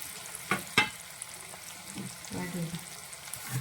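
Vegetables sautéing in sesame oil in a pan, a steady low sizzle with a few sharp clicks of a spoon stirring near the start, close and fairly quiet.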